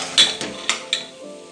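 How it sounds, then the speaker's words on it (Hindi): A spoon clinks and scrapes against a pan while minced goat meat keema, pressure-cooked and then opened, is fried and stirred. Three or four distinct metallic knocks ring out over a faint sizzle, with no talking. "अब हम इस कीमे को अच्छे से भूनेंगे ताकि ये ऑयल छोड़ दे"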